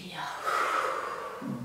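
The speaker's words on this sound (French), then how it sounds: "Et on inspire. Expire. Inspire. Expire." Slow, audible breathing during a gentle seated exercise routine for older adults, one long airy breath drawn in and let out close to the microphone, soft and breathy with no words spoken.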